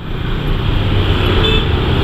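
Traffic jam on a crowded street in Bali: dense, steady rumble of cars, motorbikes and engines idling and creeping nearby, with a continuous low roar throughout and no clear talk.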